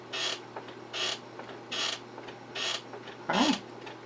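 Repeated squeaking of an old chair, five evenly spaced creaks about a second apart, close and fairly loud, with a short low groan at the end.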